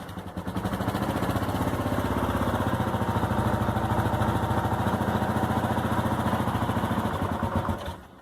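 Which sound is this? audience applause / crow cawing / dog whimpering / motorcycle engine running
motorcycle engine running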